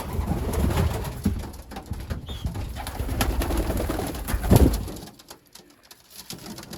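Young 2022 racing pigeons coo at their loft, soft repeated calls set against a busy background that drops away to near quiet toward the end.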